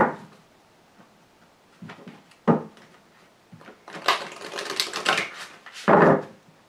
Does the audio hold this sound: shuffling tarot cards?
yes